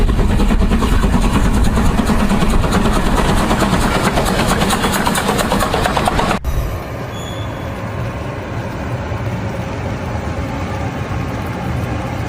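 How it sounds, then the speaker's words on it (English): A Swiss self-propelled rotary snowplow on alpine rails drones with its heavy engines, a loud, dense mechanical roar with rhythmic pulsing that drops abruptly to a steadier, lower rumble partway through. "That Swiss self-propelled rotary snowplow uses a massive spinning cutter and its own engines to chew through meters-deep alpine snow."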